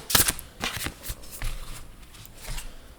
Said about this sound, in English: These cards don't sound the best when you shuffle them.